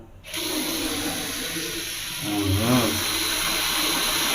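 Water gushing steadily from a second-floor tap, pressurized by a Hitachi WM-P150GX2 150-watt automatic constant-pressure water pump; a continuous close rush of flow that swells slightly partway through, with no talking.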